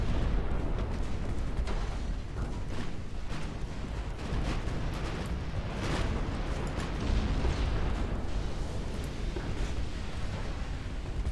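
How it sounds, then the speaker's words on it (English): Naval battle rumble from Ultimate Admiral Dreadnoughts, a 1900-era British warship campaign, with a torpedo detonation against a battleship amid continuous booming gunfire and deep explosions, dense and sustained throughout with no voices. "There you go, torpedo detonation."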